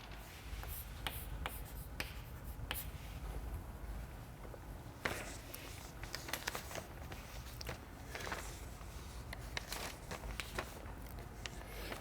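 Pen or chalk writing out a theorem during a mathematics lecture: faint, scratchy strokes and light taps come in irregular short bursts over a steady background hiss, with no voice.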